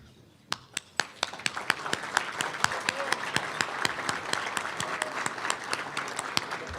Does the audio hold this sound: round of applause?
yes